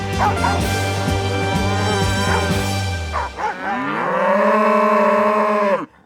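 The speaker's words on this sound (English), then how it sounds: "They're separating the cows from the calves." Cattle on a Texas ranch bellow loudly as cows are separated from their calves, with overlapping moos and dog-like yips at first, then one long, close, drawn-out moo that cuts off abruptly.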